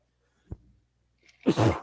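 A single sharp sneeze, close and loud, preceded by a short intake of breath, otherwise quiet.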